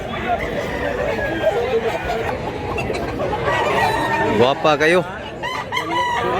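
Rooster at a gamecock farm in Mantalungon, Cebu, clucking over outdoor murmur, then crowing loudly several times near the end while people talk nearby.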